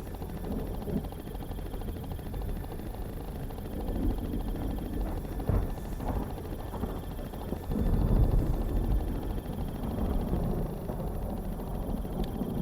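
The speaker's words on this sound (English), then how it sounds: "The sound of the chopper is probably frightening her." A helicopter's rotor drone, muffled and moderately distant, with a steady churning rumble and some wind noise, no voices.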